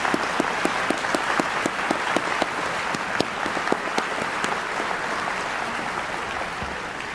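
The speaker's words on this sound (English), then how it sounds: "Let's give all of them a round of applause." A college commencement audience applauds steadily, a dense, even wash of many hands with sharper individual claps standing out, filling the hall without talk.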